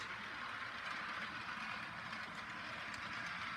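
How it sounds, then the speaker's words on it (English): Wheels of a Bachmann HO scale Edward model train rolling along the rails make a soft, steady running hiss and faint clatter, constant and fairly quiet throughout with no voices. "all you hear are the wheels running along the rails"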